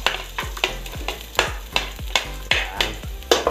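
Garlic sautéing in a pan for Ilocano sinanglaw, a home-cooked dish from Naguilian, La Union: a steady sizzle broken by about ten sharp scraping stirs that land in a quick, even rhythm, close and clear with no voices.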